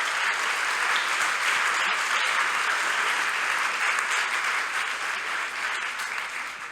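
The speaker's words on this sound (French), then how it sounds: "Vous pouvez les applaudir également" Loud, dense applause fills a French university auditorium at the final of a thesis-in-180-seconds contest, sustained and even throughout before easing slightly at the end.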